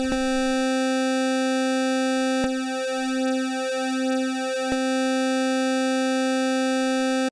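A sustained buzzy synthetic NES chiptune tone holds steady, its pitch wobbling and beating in the middle with small clicks before settling again.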